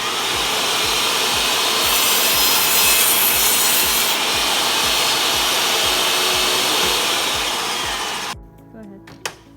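A table saw cross-cuts wood held against the miter gauge: a loud, close, steady whine and rasping cut runs for about eight seconds, then cuts off into the blade spinning down with a few clunks.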